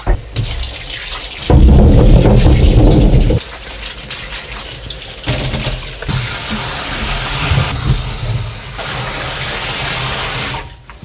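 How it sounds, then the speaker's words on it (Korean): Tap water runs over cucumbers being rinsed in a sink for traditional Korean oiji pickles. A loud, heavy gush early on gives way to steadier splashing and trickling, close by, with no talking. "이제 이 물은 이제 버리고서 한번 저 깨끗하게 헹굴게요"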